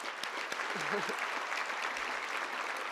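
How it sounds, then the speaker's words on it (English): Audience at a community luncheon program applauding steadily for three seconds, a dense wash of clapping with a voice briefly audible underneath. "So with a round of applause"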